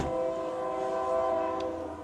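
A passing train sounds a steady, sustained horn throughout, loud and continuous, with rail rumble underneath and no talking.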